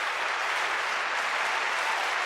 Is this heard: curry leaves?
no